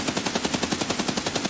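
A 5.56 MDR rifle firing full-auto in Escape from Tarkov: a rapid, even burst of about ten loud, close shots in under two seconds, with no talk.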